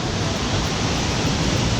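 Union Creek in Oregon rushes loudly and steadily, a close, dense hiss of moving water that does not let up.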